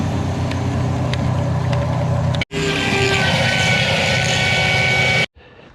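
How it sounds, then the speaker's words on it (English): High-pressure drain jetter cleaning a drain line, a loud, steady motorised roar with hissing water that cuts out briefly, resumes even stronger, then stops abruptly. "now he's gonna jet from there and clean this line"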